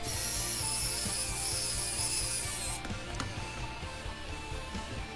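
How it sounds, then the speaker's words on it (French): Screws being driven with a ratcheting tool to fix a chair backrest that has rubber parts; a steady run of close, rhythmic ratchet clicks and rubbing turns, with no talking. "on va venir ici fixer le dossier à sa place"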